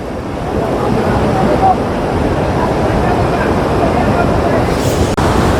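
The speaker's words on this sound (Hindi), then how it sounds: "अब देखो भाई क्या खतरनाक तरीके से बह रही है नदी, मिस्ट आ रही है ऊपर तक।" A swollen, fast-flowing Saraswati river roars near Bhim Pul by Mana village close to Badrinath, in rainy weather, giving a loud, steady, unbroken rushing wash close by.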